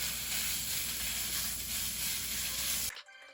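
Ground beef sizzles loudly in oil in a pan on high heat, a dense, steady hiss that cuts off abruptly near the end.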